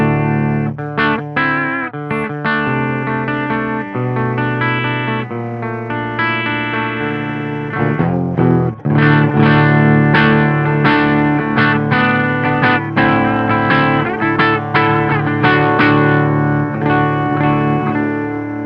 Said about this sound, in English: Once you start picking a little bit harder, you can hear a little bit of that breakup.